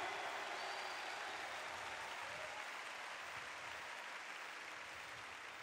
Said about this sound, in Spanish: Un aplauso fuerte al Dios de Elías.